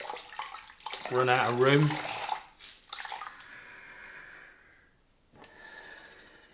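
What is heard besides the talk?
rinsing shaving lather out of a face cloth with water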